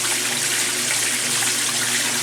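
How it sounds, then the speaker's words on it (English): Last drips of water trickling out as a 1996 Maytag Dependable Care Plus washing machine finishes draining, heard as a steady close wash of watery noise over a low machine hum. "Last few driplets of water are coming out"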